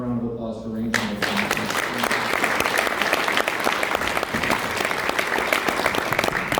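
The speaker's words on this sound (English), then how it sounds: "I'd like to say thank you, Matt, if we can give him a round of applause for arranging this." Audience applause breaks out after a brief quiet lead-in and continues steadily at full strength, a dense room full of clapping hands for a class speech.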